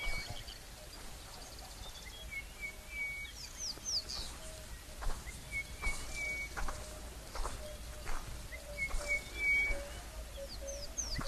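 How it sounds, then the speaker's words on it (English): Soft, low emerald-spotted wood dove coos repeat steadily in the distance while other birds chirp and whistle around them outdoors. "Emerald spotted wood dove."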